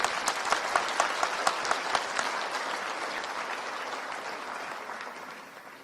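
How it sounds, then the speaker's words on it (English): A large audience at a Social Business Day event applauds strongly, with a few sharp distinct claps at the start swelling into sustained dense applause that gradually fades toward the end. "Let's give a big applause."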